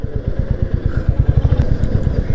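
A Royal Enfield Classic 350 motorcycle rides along a road, its single-cylinder engine thumping in a fast, steady low pulse, loud and close.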